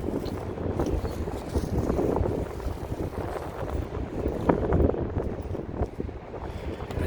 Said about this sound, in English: It's very windy right now where I'm standing